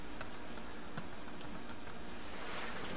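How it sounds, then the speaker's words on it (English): Quiet, irregular key clicks of someone typing on a computer keyboard beside a Nanodrop spectrophotometer in a lab, soft taps scattered over faint room noise. "I'm typing in a name for my sample."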